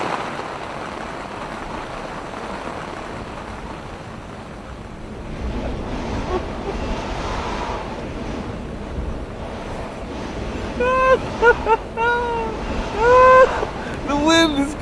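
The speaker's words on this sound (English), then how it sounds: "The wind is coming, man. The wind." Wind blowing outdoors in the Welsh countryside, a broad gusting rush buffeting the microphone that grows stronger midway, with people talking and calling out loudly over it toward the end.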